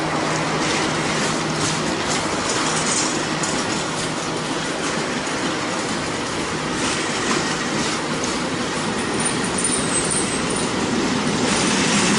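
A CSX freight train rumbles past close by in Birmingham, Alabama, with continuous wheel clatter and occasional metallic squeals, loud and steady throughout.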